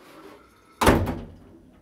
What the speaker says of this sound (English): This door will slam.